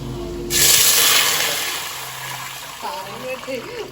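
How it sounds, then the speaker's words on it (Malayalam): Water is poured into a cooking pot on the stove, a loud rushing splash that starts abruptly and pours steadily before tapering off, with a person talking near the end. "അപ്പൊ നമുക്ക് വെള്ളം ഒഴിച്ചു കൊടുക്കാം"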